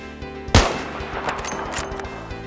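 Sniper rifle shot in a video game, landing a long-range headshot: one sharp, loud crack with a booming tail, followed by a reverberant rumble and some faint clicking game sounds.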